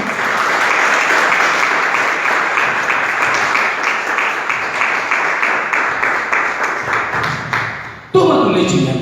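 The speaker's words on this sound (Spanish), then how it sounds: "Dan un aplauso ahí al Señor ahí." A church congregation applauds for the Lord in a sustained, dense burst of clapping that cuts off abruptly near the end.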